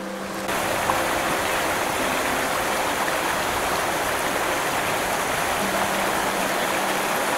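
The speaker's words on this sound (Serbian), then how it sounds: "To što se čuje žubor reke" A river murmurs steadily on a mountain trail in Stara Planina near the Tupavica waterfall, a continuous broad rushing wash of flowing water that stays even and close throughout, with no voices.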